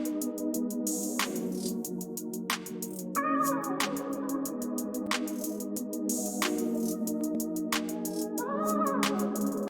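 Ambient hip-hop drum beat programmed in FL Studio, with bouncing hi-hat rolls and effected hats ticking rapidly over steady kicks and snares, plus sustained tonal layers, a dense loop heard alone.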